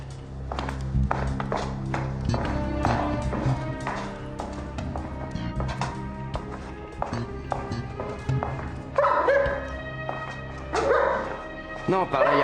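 Search dog sniffing and moving about while a person urges it on; short yips and barks mixed with scuffling taps and a voice speaking over a dense background.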